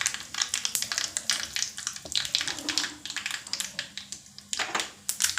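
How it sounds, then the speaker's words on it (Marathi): Mustard seeds and chili in hot oil are poured over a mixed dal and spinach appe dish, giving a crackling sizzle with rapid popping spatters, fairly close and moderately loud. "तर यावर आपल्याला हा तडका ओतून द्यायचा अशा प्रकारे"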